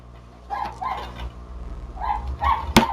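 A dog barks several times in short yelping bursts at moderate distance, with a sharp louder knock near the end.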